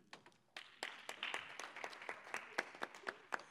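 Scattered hand clapping from a small audience at a Guinean cultural event, starting thin and then settling into a fairly regular rhythm of distinct claps, moderately faint.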